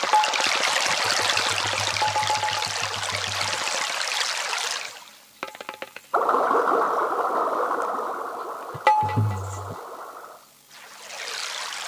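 Water poured and trickling in bursts during hand washing at an outdoor Banjara folk dance performance, with steady splashing that stops and restarts, loud and close, alongside low hum.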